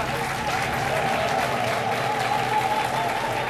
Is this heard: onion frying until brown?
no